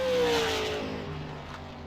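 Super late model race car on track during qualifying at 5 Flags Speedway, its engine droning loudly at first and then fading gradually as it moves away, with a falling pitch.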